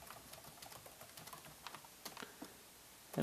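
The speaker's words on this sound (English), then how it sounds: "I can type data in here" Quiet, close typing on a computer keyboard while entering data into a table in Microsoft Word, with irregular soft key clicks and a few louder taps and no voices.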